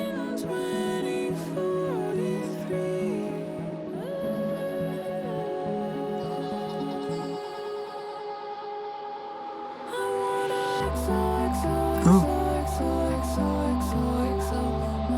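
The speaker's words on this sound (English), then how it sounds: "Those bells are like so haunting." Haunting, chiming bell tones ring through an ethereal electronic track, layered with sustained synth pads, with a deeper bass-heavy section entering near the end.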